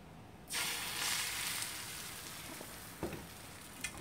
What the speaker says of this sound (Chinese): 蛋皮，我要煎的是蛋皮。